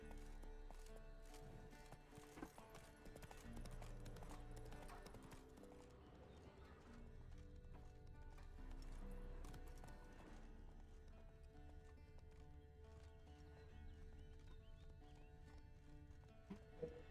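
A horse gallops with rhythmic hoof clip-clops and an occasional whinny in The Witcher 3, set against game music and ambience.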